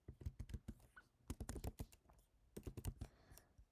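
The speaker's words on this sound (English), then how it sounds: "So first, I'm going to type geometric shapes." Quiet, rapid bursts of key clicks on a computer keyboard, typed in short runs separated by brief pauses, close and with no speech.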